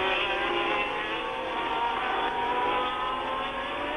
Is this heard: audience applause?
no